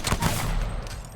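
P2020 pistol fire in the video game Apex Legends: a couple of quick, punchy shots close together in a short burst, followed by a fading tail.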